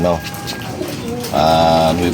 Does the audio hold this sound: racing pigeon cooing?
yes